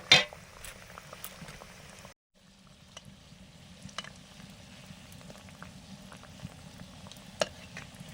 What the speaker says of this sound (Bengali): মিষ্টি গুলো হচ্ছে আর আমি তেলেও দিয়ে দিলাম এই রসটাও হচ্ছে